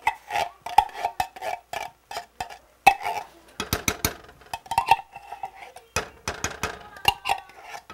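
Repeated clinks and scrapes of a metal spoon against a pot while chicken and rice are spooned in, a steady run of short, close utensil knocks with brief pauses.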